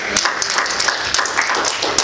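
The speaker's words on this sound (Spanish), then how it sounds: "Dale un aplauso al Señor." A church congregation clapping together, a brief burst of dense, fairly near applause with a little voice mixed in.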